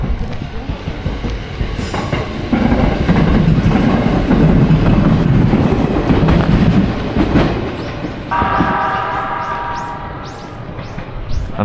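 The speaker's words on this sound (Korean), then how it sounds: "나도 지하철 지나간다." A subway train rolls past close by, a loud sustained rumble and clatter of wheels on rails that builds, then fades, with squealing tones toward the end.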